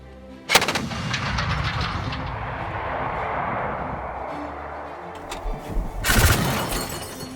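A loud blast from a ZU-23-2 anti-aircraft gun opens, followed by a long rumbling echo and rattling debris, then a second heavy burst of firing near the end.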